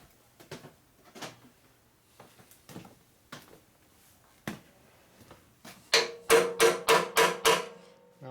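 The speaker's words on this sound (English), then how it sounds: "Might be able to beat that in a little bit further with a hammer." A hammer taps a tight part into a custom Evo-engine rigid bobber chopper, scattered light knocks giving way to a quick run of five loud, evenly spaced metallic blows close by.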